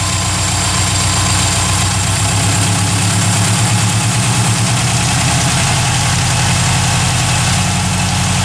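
Subaru EA81 engine idling after start-up, a loud, steady, close rumble with a rhythmic pulse that settles into a slightly higher, even idle partway through.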